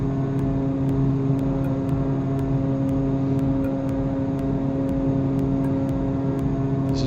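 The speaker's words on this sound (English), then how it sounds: "This is basically a short landing takeoff type airplane." Steady drone of an Evektor EV-55 twin-turboprop in X-Plane 11, a continuous engine hum with strong sustained tonal whine, heard alone at constant level, with faint periodic clicks ticking above it.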